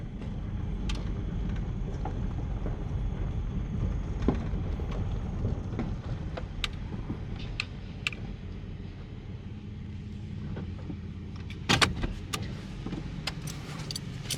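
A van rolls through a covered bridge, its steady low road rumble and tire noise filling the interior, with occasional light clunks and rattles and a sharper knock near the end.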